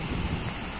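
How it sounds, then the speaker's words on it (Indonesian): Strong wind buffets the microphone at Pantai Mustika beach as a dense, continuous roar, with the surf blending into the gusts and no voices. "pasti ada suara angin yang kencang banget nih"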